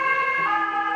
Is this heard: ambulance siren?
yes